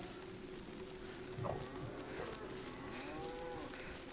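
A cow in the video game DayZ moos with a low, drawn-out call over a steady background hum, one or two lowing calls rising and falling at moderate volume.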